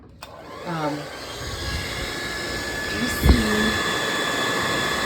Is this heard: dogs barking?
no